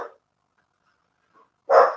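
A dog gives a single sharp bark at the end, close and loud, after a brief fainter yelp at the start and near silence between.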